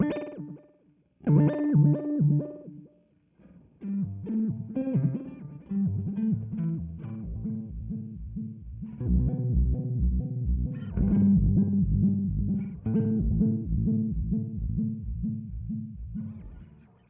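Guitar run through a delay pedal with extra repeats dialed in, short phrases echoing and smearing into a dense, decaying wash that trails longer behind each note, heard alone without talk.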